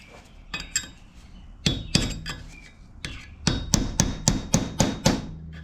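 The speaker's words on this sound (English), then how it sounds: "I'm going to tap on it with a hammer and a punch just to make sure that it did seat down." Metal-on-metal hammer taps driving a punch against a newly installed ball joint on a Ford F250, about a dozen sharp, ringing clinks in irregular bursts, close and fairly loud, with no talk.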